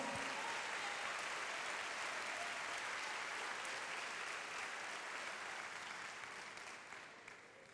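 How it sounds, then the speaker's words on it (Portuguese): Sustained applause from a large church congregation, steady and dense for several seconds before gradually thinning out toward the end. "Aplauda ao Senhor."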